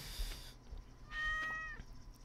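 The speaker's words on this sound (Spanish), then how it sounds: "¿Qué pasa, gatita?" A cat in Stardew Valley gives two meows, a faint short one followed by a louder, drawn-out tonal meow, over quiet game background.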